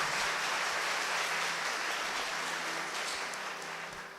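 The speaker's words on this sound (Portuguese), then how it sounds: "dá uma salva de palmas para Deus." A church congregation at a Mass for the sick applauds, a dense, sustained wash of clapping that holds steady and then slowly fades.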